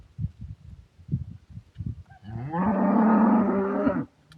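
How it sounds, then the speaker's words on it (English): A cow on a rural track gives a single loud, drawn-out moo lasting about two seconds, close by, after a few soft rhythmic thuds. "maybe that's a cow"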